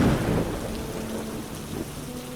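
Steady heavy rain with a low rumble of thunder rolling underneath, dense and continuous hiss with no voices.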